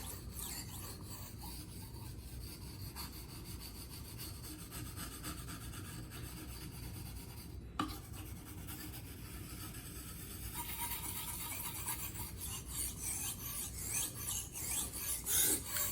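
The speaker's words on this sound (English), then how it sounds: "It is combination of American steel and Japanese rock on which we are sharpening" A filet knife of American steel is drawn over a Japanese whetstone in steady, continuous rasping strokes, close and fairly quiet, with a single sharp click partway through and the scraping growing slightly louder toward the end.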